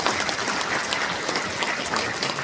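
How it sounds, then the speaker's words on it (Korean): Applause fills a lawmaker's report meeting, a thick, even wash of many clapping hands from the crowd, loud and sustained with no speech over it. "박수 부탁드리겠습니다"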